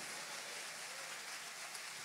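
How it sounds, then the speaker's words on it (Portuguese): A church congregation applauds during a closing worship service, a faint, steady wash of many hands clapping heard from a distance, even and unbroken throughout. "os que creem podem aplaudir ao Senhor, glorificando a Ele"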